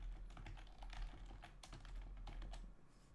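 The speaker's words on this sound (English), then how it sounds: "let me type this in here" Rapid typing on a computer keyboard, a steady run of close, crisp key clicks with brief pauses, heard alone without speech.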